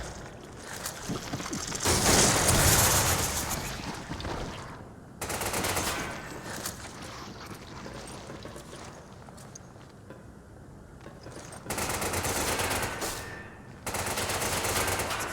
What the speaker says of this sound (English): I hear the gunfire, I don't see the person